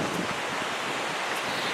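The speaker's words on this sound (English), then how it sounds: "it's raining, it's windy" Steady wind roars and buffets the microphone on a rainy day in Marrakech, Morocco, a constant rushing noise with no other sounds.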